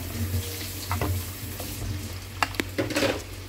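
Rice is stir-fried in butter in a pan, a soft steady sizzle with scattered scraping and clinking taps from a stirring utensil toward the end, fairly quiet and without talk.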